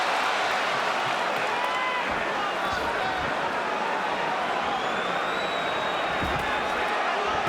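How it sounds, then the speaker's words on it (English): Boxing arena crowd roaring during the Miguel Cotto vs Shane Mosley fight, a dense steady wall of cheering and crowd noise reacting to Cotto's punches, with a commentator talking over it. "Crowd reacting to anything Cotto puts forth."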